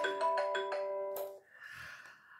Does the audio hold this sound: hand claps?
no